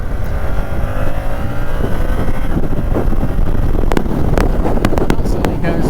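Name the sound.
2022 Yamaha R7 motorcycle accelerating on dual carriageway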